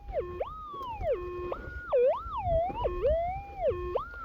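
A metal detector in the bush sounds a warbling, swooping electronic tone over a suspected gold target, the pitch repeatedly dipping and rising like a siren, close and steady for about four seconds.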